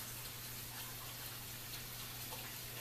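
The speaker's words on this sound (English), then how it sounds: "let me wash my hands. Make sure you use warm water and soap." A kitchen tap runs with warm water during handwashing, a faint, steady hiss of flowing water held evenly throughout, with no voices.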